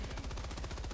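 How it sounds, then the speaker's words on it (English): A support machine gun in Helldivers 2 fires at its maximum rate of fire, a rapid, even stream of shots with no pause, heard up close in a short burst. "Machine gun, also max RPM."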